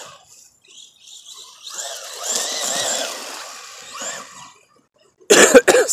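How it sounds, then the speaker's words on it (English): Hoarse, rasping coughing from a man with a cold, a drawn-out fit heard up close and followed by a short pause, then a louder sharp burst at the end. "I don't want to be coughing every 2 or 3 seconds"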